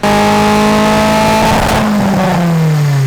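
A tuned car engine is revved hard through a power run, a loud continuous rising drone that peaks with a burst of harsh roar near the middle and then settles into a lower, sustained pull.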